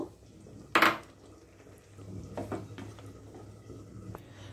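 Paneer pieces tipped into a pan of creamy North Indian vegetable dish, starting with one sharp metallic clatter, then quiet soft knocks and shuffling against the pan.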